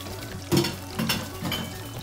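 White potato fries cooking in a pan, a soft sizzle with a couple of brief stirring and utensil scrapes, close and fairly quiet, with no talking.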